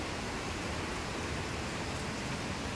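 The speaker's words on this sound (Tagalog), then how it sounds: "Grabe ang ugong ng hangin." Typhoon wind roars with rain in the Philippines, a dense, unbroken wash of broadband noise, steady and enveloping, with no voices and no distinct gusts.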